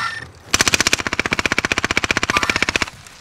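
Sustained automatic gunfire in Call of Duty: Modern Warfare (2019), a rapid, evenly spaced burst of about two and a half seconds, loud and close, with no talk over it.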